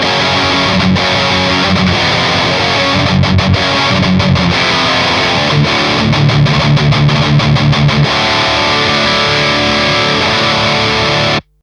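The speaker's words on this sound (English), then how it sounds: "So of course, with a heavy tone, the bridge pickup again sounds something like this." A heavily distorted carbon fiber Enya Inspire smart guitar on its bridge pickup chugs through metal palm-muted riffs and sustained power chords, thick and loud, ending abruptly.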